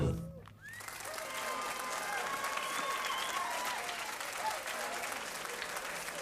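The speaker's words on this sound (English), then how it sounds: "Just keep clapping like that" A live rock concert audience claps steadily in a dense, sustained wash of applause from a large crowd, with a brief dip near the start and a voice speaking over it.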